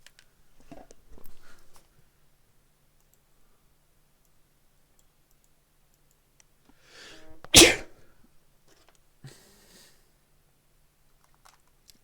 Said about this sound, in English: I sneezed and immediately got a notification on my phone.